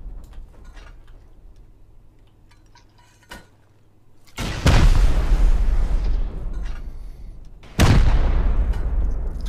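In the video game Rust, after quiet clicks and a sharp tick, an incendiary rocket erupts in a loud explosive burst with a roaring rumble, followed a few seconds later by a second heavy blast.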